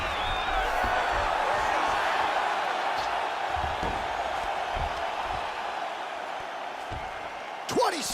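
Crowd noise in a UFC fighting video game: a steady, broad roar of arena spectators reacting throughout, with occasional thuds and a brief sharp whoop near the end, under a commentator's voice.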